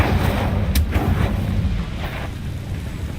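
An Incendio fire spell cast in the video game Hogwarts Legacy, a sharp blast followed by a sustained roaring, crackling burst that slowly fades, with no talking.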